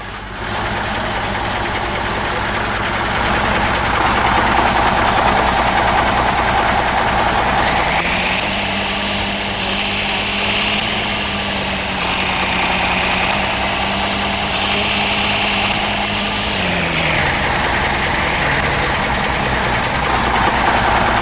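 A John Deere tractor engine idles steadily with a low, continuous rumble, rising to a higher, busier rev partway through and holding there before dropping back to idle; no voices.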